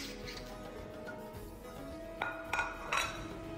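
Children set a table at home, dishes and cutlery clinking softly over a low room hum, with a few sharper clinks near the end.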